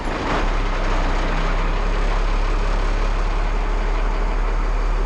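A step van's engine rumbles at a steady idle, a loud, continuous low drone that holds evenly throughout with no start-up surge and no talking.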